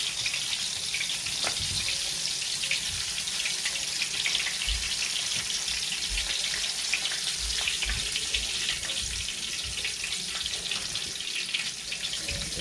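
Shrimp frying in hot oil for shrimp and grits, a steady close crackling sizzle with occasional pops running throughout, no talking.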